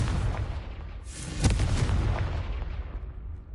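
Confringo explosive spell in Hogwarts Legacy, a sudden booming blast with a sharp crack that then rolls out into a long fading rumble, loud and close.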